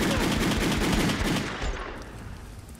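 Two guns firing together in the Kick-Ass video game, a rapid, loud burst of repeated shots that continues without a break, then thins and fades toward the end.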